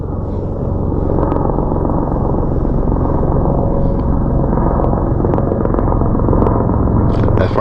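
A helicopter descending into a valley near Las Vegas roars in a loud, steady rotor and engine drone that continues unbroken throughout, close and dominant.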